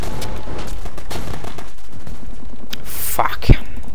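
Dense, continuous gunfire from a World War II real-time strategy battle in Men of War: Red Tide, loud and sustained with overlapping shots and a sharper burst near the end.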